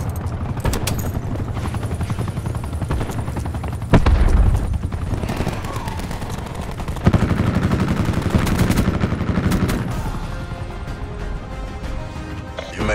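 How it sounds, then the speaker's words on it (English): Attack helicopter in the video game Call of Duty: Black Ops 4, a continuous rotor drone mixed with bursts of machine-gun fire and booms, loud and dense throughout. "Attack chopper available for tasking."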